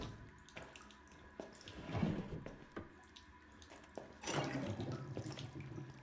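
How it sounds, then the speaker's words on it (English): Water sloshes and splashes as a hand reaches into a filthy, clogged sink in a grim bathroom in the horror game Resident Evil 7, with two louder bursts of movement over a running-water wash. "Oh, you reached into the water?"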